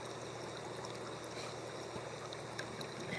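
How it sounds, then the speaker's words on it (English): A stream flows in a continuous soft rush of water with light trickling and splashing detail, steady and unbroken, moderately close and alone without talking. "just listening to the water"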